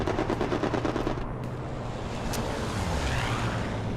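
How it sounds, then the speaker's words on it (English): Rapid machine gun fire from a strafing run in a battlegrounds-style video game rattles in a dense stream for about a second and a half, then fades into a rushing, wind-like roar. "Strafer run goes through."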